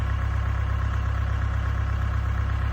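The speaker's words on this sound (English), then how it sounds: "let me get on this tractor" A tractor engine runs at a steady idle, a loud, even low rumble with a constant throb and no pauses, heard up close.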